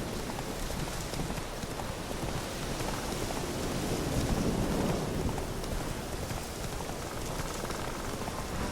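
Roach, the Witcher 3 horse, gallops in a steady clip-clop under a dense wash of hissing rain, the hoofbeats muffled and continuous throughout.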